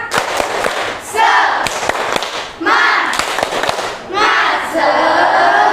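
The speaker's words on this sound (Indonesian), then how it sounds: "mari kita lakukan tepuk semangat seperti biasa ya" Classroom of students doing the tepuk semangat spirit clapping chant: sharp rhythmic claps in quick patterned bursts mixed with loud shouted group voices, repeating in several rounds.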